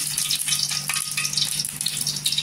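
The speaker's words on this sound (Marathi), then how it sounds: "इथे जिरं टाकायचं, जिरं पण छान असं तरतरलं पाहिजे।" Cumin seeds sizzling in a spoonful of hot oil in a kadhai for tempering, a close, continuous crackling fry with rapid small pops and no talking.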